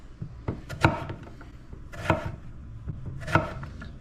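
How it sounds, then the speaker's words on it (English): A knife chops eggplant into strips on a cutting board for Sicilian pasta alla Norma, giving three or four sharp, separate thuds against the wood at an uneven pace, close and fairly loud with soft handling noise between. "Then you come over here and just cut these into strips."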